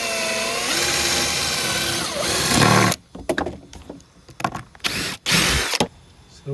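Power screwdriver backing deck screws out of cumaru hardwood boards, a loud sustained whirring burst for several seconds, then short intermittent buzzes and clicks between quieter pauses.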